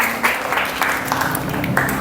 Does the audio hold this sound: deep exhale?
no